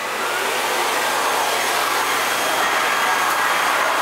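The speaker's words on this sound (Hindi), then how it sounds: "सुनील कर रहा है वैक्यूम" A vacuum cleaner runs steadily indoors, a loud continuous broadband whine and rush that holds constant for the whole stretch with no talking over it.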